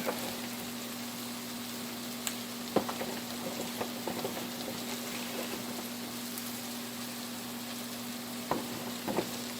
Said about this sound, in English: I'm going to add spinach, because I want the spinach already cooked down.